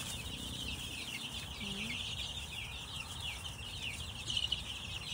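Chicks peeping and clucking around an automatic feeder in a brooder of some 250 birds, a steady background chorus of high chirps with a faint low hum beneath and no talk.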